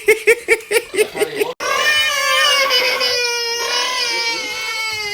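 A child imitates a penguin with a rapid series of short squawking bursts, then holds one long wavering, nasal cry, loud and close.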